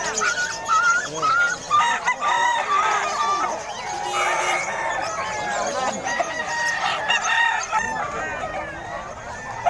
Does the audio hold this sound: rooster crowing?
yes